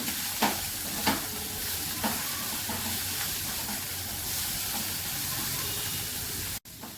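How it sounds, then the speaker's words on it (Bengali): Two green chillies sauté in a pan with a steady, close-up sizzle, punctuated by a few light knocks of stirring near the start and a brief drop-out near the end. "দুটো কাঁচা লঙ্কা দিলাম। এবার এটাকে একটু কষিয়ে নেব।"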